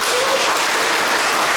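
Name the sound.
audience applause welcoming speaker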